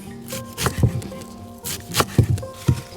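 A knife chops parsley rapidly on a cutting board in repeated soft thuds and taps, close up and uneven in rhythm.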